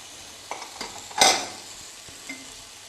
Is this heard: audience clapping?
no